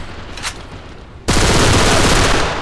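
Gunfire in the video game AVA: quiet at first, then a sudden loud sustained burst of rapid shots that fills the rest of the clip.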